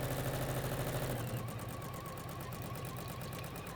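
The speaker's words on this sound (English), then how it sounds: "Just top stitch up the other side" Sewing machine top stitching a bag, a fast steady motor whir with rapid rhythmic needle ticks, close and alone, the pitch shifting slightly as it runs.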